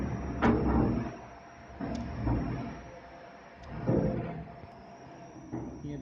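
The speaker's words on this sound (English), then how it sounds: "Here the sliding of the door." The metal sliding door of a baggage trolley is slid back and forth several times, each pass a soft rolling scrape with light knocks, close by over a faint steady machine hum.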